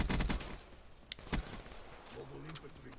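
Gunfire from Black Ops 3 gameplay, using the Purifier weapon: loud bursts of shots in quick succession at the start and again mid-clip, with chaotic game noise between them.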